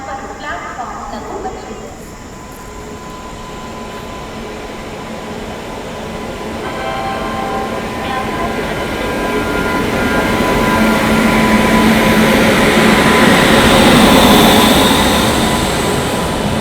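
The Dharmavaram–Nanded train, a South Central Railway LHB rake, rolls past with a steady rumbling roar that slowly swells and then eases off at the end.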